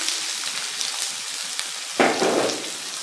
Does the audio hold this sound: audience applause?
no